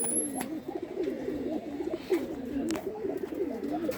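Pigeons coo continuously in a loft, a soft rolling chorus of overlapping warbling calls close by, with faint flutters and scuffs in the background.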